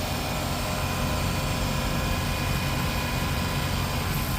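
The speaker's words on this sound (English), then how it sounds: "Let's give it a little RPM." A Ford Focus EcoBoost engine with a throttle actuator fault stuck closed, running in a steady loud drone close by with no clear rise in revs.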